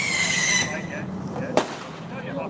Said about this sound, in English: Oh, firework just been thrown.